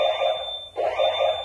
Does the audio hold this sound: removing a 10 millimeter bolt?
no